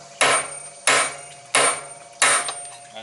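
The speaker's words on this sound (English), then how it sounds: "Big hammer, and you just wail on it." Four loud, evenly spaced metal clangs as a big hammer strikes a 1 7/16 wrench to loosen the fan nut on a 2002 GMC Sierra 1500, each hit ringing briefly before the next.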